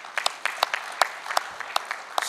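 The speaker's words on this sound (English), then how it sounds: "huge round of applause." Applause at an award ceremony, a thin scattered round of hand claps from a small audience, steady and moderately close throughout.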